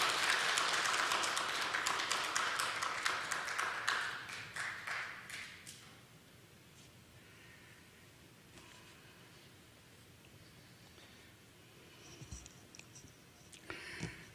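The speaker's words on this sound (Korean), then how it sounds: "우리 배영복 장로님 나오실 때 우리 큰 박수로 맞이해 주시겠습니다." Applause welcoming a church elder to the podium before a lecture on the Battle of Chosin Reservoir, loud crisp clapping for about four seconds, then fading into quiet room tone with a few scattered soft taps.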